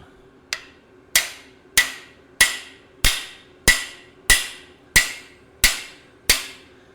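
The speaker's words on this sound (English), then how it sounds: "Get my big hammer and whoop the devil out of it till the cam bearing goes in." A heavy hammer strikes metal ten times at a steady, even pace, driving a cam bearing into an engine block, each blow a sharp, loud ring that decays quickly before the next.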